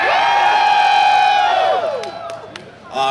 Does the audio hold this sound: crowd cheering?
yes